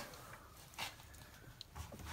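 A dog whimpers faintly in a quiet indoor space heated by a wood stove, giving a few short, soft whines and snuffles against low background hiss.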